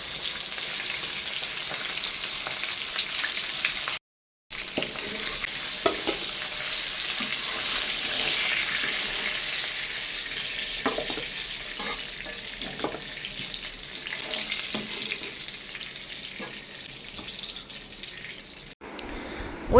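Nigella seeds and bay leaf spluttering in hot oil, then cut potatoes added and frying; a steady broadband sizzle runs throughout, with a brief drop near four seconds and scattered crackles and stirring clicks.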